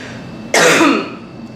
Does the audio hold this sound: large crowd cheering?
no